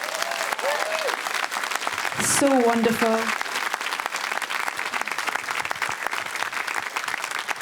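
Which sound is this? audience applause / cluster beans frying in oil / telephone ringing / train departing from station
audience applause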